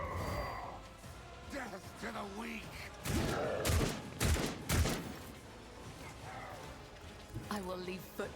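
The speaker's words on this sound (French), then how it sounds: "il tire sur le Métabrutus pour le renforcer" A volley of gunfire sounds in the video game Warhammer 40,000: Rogue Trader, several sharp loud bursts clustered in the middle amid in-game voices and game audio.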